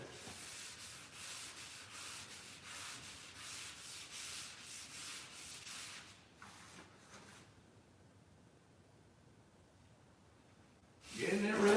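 Wet sanding the body of a Dart ahead of paint: steady, rhythmic rubbing strokes fill the first six seconds, then fade to a quieter patch with a loud burst near the end.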